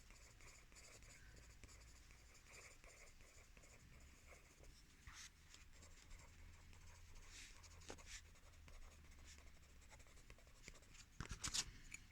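Pencil scratching steadily across paper while colouring in a tree drawing, faint and continuous strokes with a few louder scrapes near the end.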